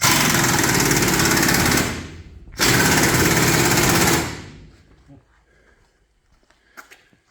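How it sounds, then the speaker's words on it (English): Pneumatic impact gun tightening bolts on Bombardier tracks, two loud sustained bursts of hammering whir separated by a brief pause, followed by quieter shop sounds and faint clanks. "He just changed out his impact gun."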